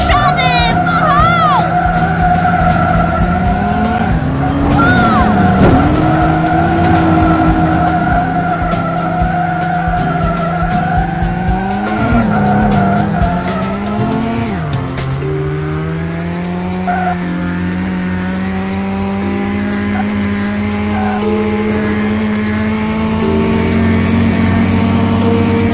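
A car in the kids' racing game Pluszaki Rozrabiaki 2 (Great Race Across Europe) revs steadily, its engine pitch rising and falling as tyres squeal and skid through turns. The sound is loud and continuous, with a cartoonish game-audio character.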